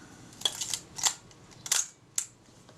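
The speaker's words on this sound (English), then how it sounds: "I put a shutter release in there now." Several sharp mechanical clicks from a Retina Reflex type 025 camera shutter being fired via a lockable cable release, five distinct snaps spaced irregularly over a few seconds, close and fairly quiet.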